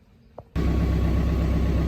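A John Deere 4066R compact tractor engine starts abruptly after a short quiet moment and then runs steadily, a loud, close, broadband droning idle with no talk over it.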